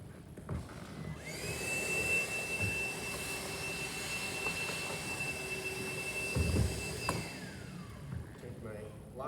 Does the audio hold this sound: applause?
no